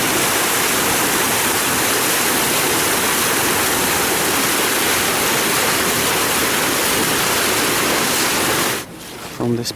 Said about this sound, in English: So this is one of the bigger ponds of Dainichi, and we're draining the water.